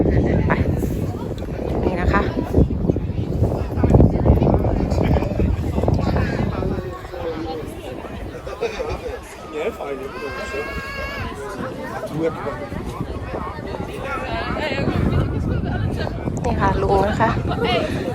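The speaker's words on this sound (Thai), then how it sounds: "ลมแรงหน่อยนะคะเพื่อนค่ะ" Strong wind buffets the microphone at the Camp Adventure forest tower lookout in Denmark, a continuous loud rush with people talking and background chatter throughout.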